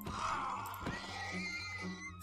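A horse neighing in Minecraft, a clear, faint whinny that rises and wavers for over a second, followed by a shorter, softer snort-like call, with a brief sharp knock in between.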